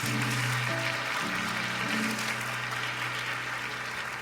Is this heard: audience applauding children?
yes